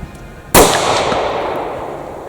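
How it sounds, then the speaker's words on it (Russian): A single sharp rifle shot cracks out during a rutting-season moose hunt in Belarus, loud and sudden, with a long rolling echo trailing off across open country. "Выстрел."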